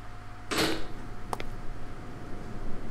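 A door creaks open in the horror adventure game Scratches, a short, loud creaking swell followed a moment later by a fainter click against a quiet background hum.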